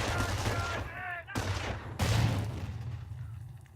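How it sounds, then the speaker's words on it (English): Grenade blast knocks out a machine gun team in Company of Heroes, sharp explosions and bursts of gunfire crackling over a rumbling battlefield, loud and close. "Let's throw a grenade to destroy the machine gun team."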